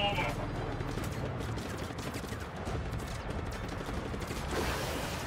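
Scattered gunfire rattles amid a busy battle in the Just Cause 3 video game, bursts blending with mechanical clatter and a dense, continuous background of action.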